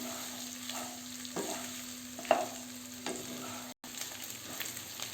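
Beef kala vuna stir-fried in a pan, a steady low sizzle with a few scraping spatula strokes, close and alone with no talking.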